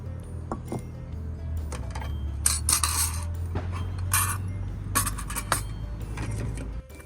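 Metal cookware clatters and clinks in several short bursts, a pan being handled and set down close by, with a low steady hum underneath.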